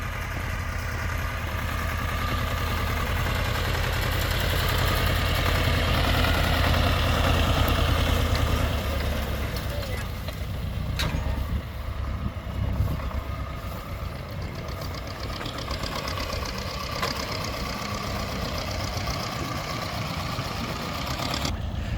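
Tractor pulling a Klen seed drill as it drives up, a continuous mid-pitched engine drone that swells slightly as it nears, then holds steady, with no talk.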